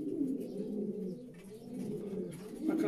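Racing pigeons cooing inside a loft, soft low throaty coos layered over each other, faint and continuous with no talking.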